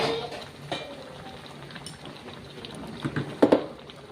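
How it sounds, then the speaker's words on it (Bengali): Jackfruit and shrimp curry with freshly added boiling water simmers in a pot with a steady low bubbling hiss, broken by a few sharper clinks and stirring knocks near the end. "দিয়ে একটু ভালো করে মশলার সঙ্গে ফুটতে দেবো"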